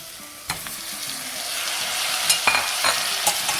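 Tomatoes added to softened carrots and onions in a pan for soup, a steady sizzle with a few sharp clinks and stirring scrapes, close and without talk.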